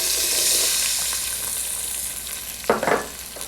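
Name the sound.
sautéing diced red pepper in a pan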